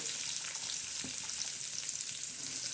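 Onion with curry leaves sizzling in hot oil for shev bhaji, a dense, even crackling hiss that holds steady throughout.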